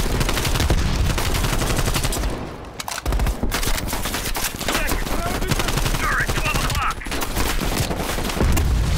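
Dense automatic gunfire from Call of Duty Black Ops Cold War rattles almost without pause, loud and close, with heavy bursts and booms layered together and a short lull before the shooting resumes.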